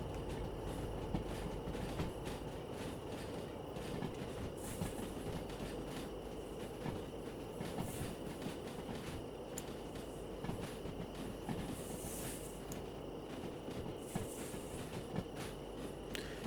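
A locomotive rolls along in the Derail Valley train game, a steady low rumble of wheels on track with soft periodic clacks and faint high squeals, fairly quiet and continuous with no voice.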